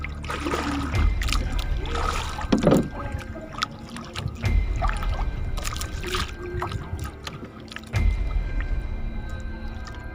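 Strong sea current rushing around a small handline fishing boat, a steady wet churn with splashes, drips and knocks against the hull throughout.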